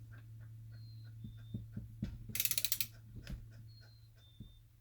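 A torque wrench tightening a bolt gives soft mechanical clicks, then a quick rattling run of ratchet clicks midway, all close and fairly quiet.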